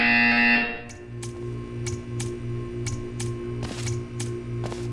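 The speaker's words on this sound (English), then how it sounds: "You will hear a buzzer. When you hear the buzzer, stare at the art." A repeating buzzer from the video game Portal 2 sounds in short, evenly spaced pulses over a steady low electronic hum, following a brief louder tone at the start.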